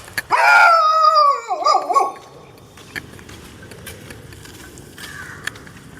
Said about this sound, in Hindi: आई थिंक कोई और कुत्ता आ गया है लगता है।